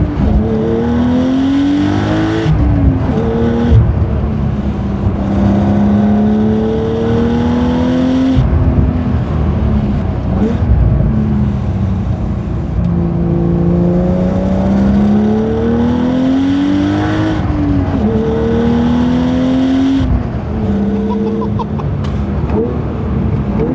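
A 500 hp manual modern Porsche 911 on winter tires drives hard, its engine droning and rising through repeated rev sweeps and gear changes, with breathy blow-off hisses as the throttle lifts; loud, steady and close, heard from inside.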